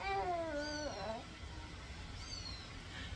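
A cat lets out a drawn-out, falling meow, followed by a fainter second mew, against a steady low background hum indoors.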